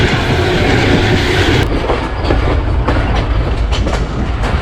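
The Zakaria Express rolls toward Samasatta Junction in Pakistan, a loud, close, continuous rumble of rail cars with a steady clickety-clack of wheels over the track joints and occasional sharper metallic accents.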